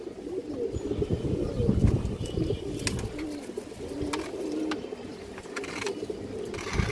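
A red-throated pigeon of a dark plum colour coos softly in a loft or shop, low murmuring calls repeating under a busy background of other birds chirping and faint rustling.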